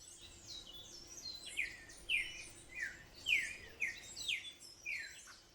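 Hummingbirds at a Colombian hummingbird observatory with feeders and flowering plants give a series of sharp, descending high chirps, fairly close and repeated in irregular bursts over a faint steady background hum.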